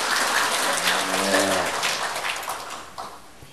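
Applause from a church congregation at an evening revival meeting, a broad dense wash of clapping at steady loudness that thins and fades toward the end, with a brief low voice partway through.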